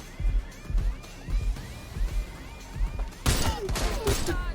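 Repeated bursts of gunfire in Watch Dogs: Legion, rhythmic thudding shots that swell into a louder, denser volley near the end, with no voices.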